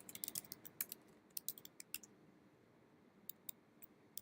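Quick keystrokes on a computer keyboard entering a terminal command, a soft close run of uneven clicks in short bursts with brief pauses between.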